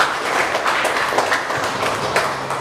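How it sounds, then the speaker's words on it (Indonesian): Applause and clapping for Bu Tias at a vocational school (SMK Ma'arif NU 1 Wangon) gathering, a steady wash of many hands lasting a few seconds, with no voices over it. "Tepuk tangan buat Bu Tias."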